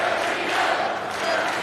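A college wrestling crowd at the ACC championship cheers and shouts in a dense, continuous roar during an overtime bout, loud and unbroken for the whole moment.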